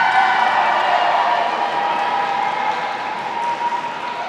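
Arena crowd at a lightsaber fighting world championship cheering and applauding, a steady loud wash of voices and claps that holds throughout and eases slightly toward the end.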